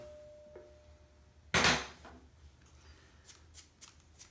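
A trimming tool cuts fine lines into a leather-hard 3-lb clay bowl on a potter's wheel, a sharp scraping rasp at about 1.5 s followed by quieter intermittent scratches, close and alone with no talk.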